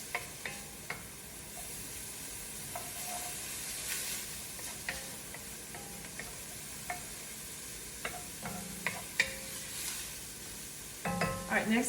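Garlic and onions sizzle in a pan, a soft, continuous frying hiss broken by stirring clinks and scrapes, with a louder clatter of utensils near the end.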